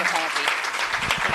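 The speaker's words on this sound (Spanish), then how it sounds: "un aplauso para ella" An audience applauds an award-winning writer honoured for poetry and a novel at a summer conference, a short burst of dense clapping under a speaking voice.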